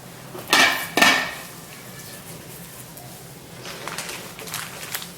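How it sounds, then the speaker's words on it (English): Two sharp metallic clanks close together as a lid goes onto a cooking pot of collard greens, followed by quiet kitchen background and faint rustling. "Now, we're going to put the lid on."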